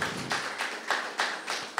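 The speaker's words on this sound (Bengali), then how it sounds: "সবাই হাততালি।" People clap at a Bengali literary gathering's prize announcement, a loud, close, evenly spaced series of about six claps, with no voices heard.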